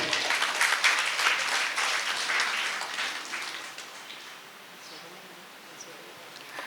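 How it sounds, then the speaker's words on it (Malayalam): An audience claps at a YWCA Christmas celebration, a burst of dense applause that is loud at first and then thins and fades into scattered claps and quiet room noise. "എല്ലാവരും ഒരു ക്ലാപ്പ് കൊടുത്തേ"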